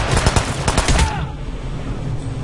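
Rapid bursts of gunfire from the video game Hitman Absolution, a close, loud volley of shots in the first second that cuts off into a quieter game background.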